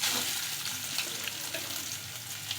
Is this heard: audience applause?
no